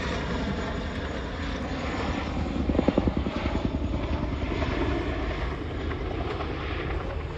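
A Chinook twin-rotor helicopter flying in an air display at RAF Cosford 2025, a loud continuous rotor and engine roar with a rhythmic blade-slap thumping that swells midway through, heard from a distance across the show ground.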